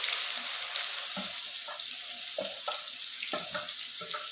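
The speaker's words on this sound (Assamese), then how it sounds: "এইখিনি মই অলপ সময় ভাজি ল'ম" A paste of onion, tomato, garlic and ginger sizzles steadily in a hot pan, a constant close hiss broken by several scraping knocks of a spatula stirring.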